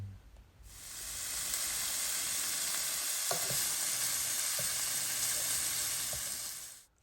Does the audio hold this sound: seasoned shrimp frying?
yes